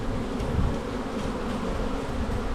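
Honeybees flying at a hive entrance make a steady, close buzzing drone with no pauses and no voices.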